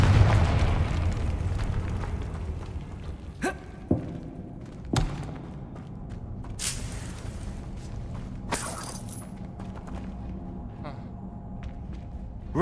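A Confringo fire spell bursting in Hogwarts Legacy, a few sharp thuds and bright cracking blasts scattered over a rumbling game backdrop.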